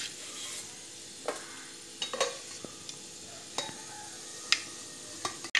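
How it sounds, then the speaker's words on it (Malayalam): Mustard seeds splutter in hot coconut oil in a pan, making sparse, sharp pops and crackles over a faint, quiet sizzle. The bursts come irregularly and stay close. "കടുക് പൊട്ടിയിട്ടുണ്ട്"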